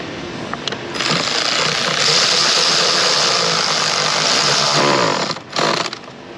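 Spark plugs being tightened on a supercharged 5.0 V8 Land Rover Range Rover; a steady, loud mechanical whir runs for about four seconds, broken by short gaps at either end.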